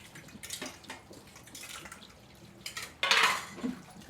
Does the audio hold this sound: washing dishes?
yes